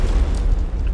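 Grenade blast in PUBG Battlegrounds, a single heavy low boom filling the whole short moment.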